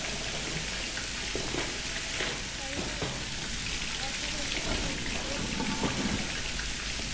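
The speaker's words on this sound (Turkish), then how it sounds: "Yağmur sesi geliyor." Heavy rain pours down inside the survival-horror game Resident Evil 7, a constant hissing wash with faint rumbling beneath, steady and unbroken throughout.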